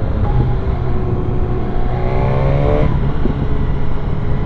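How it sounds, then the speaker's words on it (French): A BMW S1000R roadster motorcycle's engine drones loudly and steadily, with a quick burst of rising and falling revs during a quickshifter-assisted downshift near the middle. "le shifter à descente c'est incroyable"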